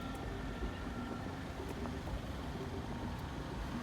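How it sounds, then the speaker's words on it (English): Street traffic at the CARIFESTA XV Grand Market in Barbados forms a steady, continuous rumble of vehicles at moderate distance, with no talking. "The traffic up here is tremendous though, I must say."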